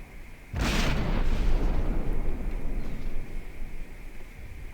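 A loud explosion bursts from a warship's ammunition rack in the naval combat game From the Depths, a sharp blast followed by a long rumbling roar that fades slowly over several seconds.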